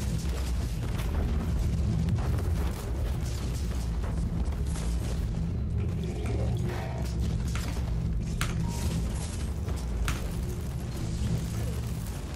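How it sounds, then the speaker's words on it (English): Warhammer 40K Inquisitor gameplay with deep rumbling booms and blasts, a loud explosion among continuous low combat noise and mechanical clatter for the whole stretch. "this explosion right in front of my face"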